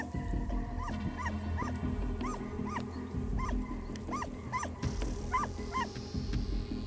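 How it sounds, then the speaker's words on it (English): Deep, repeated barking from a dog confronting a fox, in bursts at a steady rhythm at mid distance over a constant low rumble of outdoor background noise. "the deep, relentless bark alone is enough to make even the boldest fox give up"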